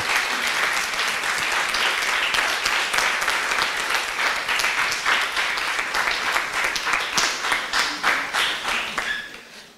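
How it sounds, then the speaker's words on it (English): Dense, sustained applause from an audience at a panel discussion on UX design, honoring volunteers called to the front; steady clapping for nearly ten seconds, tapering off at the end. "please request you to give them a good applause"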